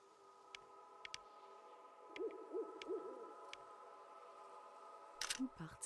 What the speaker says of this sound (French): Hibou!